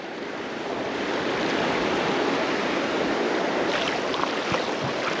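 River water flowing steadily past deep pockets near the bank, making a continuous, fairly loud rushing wash with no speech over it.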